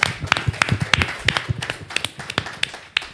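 A small audience at a transportation panel gives the speakers a round of applause: sparse, distinct hand claps in an uneven rhythm, close and crisp rather than a full crowd roar.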